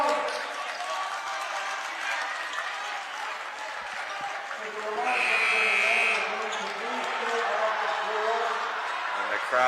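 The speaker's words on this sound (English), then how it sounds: "and the crowd's getting wild" A high school boys basketball crowd, South Burlington vs BFA, cheers and applauds in a gym, a steady roar of voices that swells louder midway, with a short buzzer-like tone and commentators talking over it.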